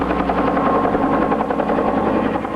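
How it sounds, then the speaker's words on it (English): Several helicopters flying overhead during news coverage of tornado damage in Logan, Indiana, a steady loud rotor drone with rapid blade chop, continuous and unbroken, with no voices. "there were several helicopters flying overhead today"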